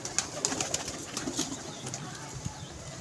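Pigeons at a pigeon club coo and rustle nearby with scattered wing flaps and clicks, a busy close loft ambience.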